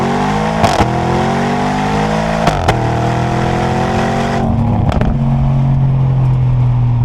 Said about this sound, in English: You get little cracks and pops as you go on and off the throttle.